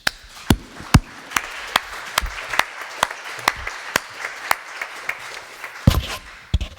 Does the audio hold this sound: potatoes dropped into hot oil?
no